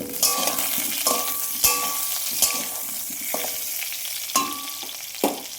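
Potatoes sizzle steadily in hot oil while a metal spatula clinks against the pan every second or so.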